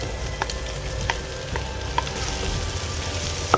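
Potatoes and fried okra (bhindi) frying in masala with prawns in a pan: a steady sizzle with several spoon scrapes and stirring knocks spaced through it, close and clear.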